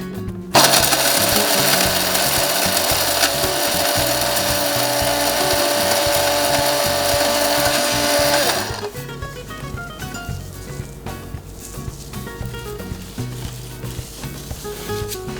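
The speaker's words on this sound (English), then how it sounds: "cloves, tailed pepper, grind together." A mixer grinder grinds cloves, tailed pepper and cardamom for a mutton raan masala. A loud, steady whirring roar lasts about eight seconds, then stops and leaves a quieter rattle and clatter.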